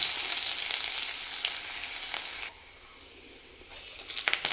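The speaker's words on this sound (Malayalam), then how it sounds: "കടുകിട്ട് പൊട്ടി വരട്ടെ" Mustard seeds crackle and pop in hot coconut oil for a banana-flower thoran, a dense close sizzle that suddenly drops to quiet, then sharp spluttering pops return at the end, with no speech.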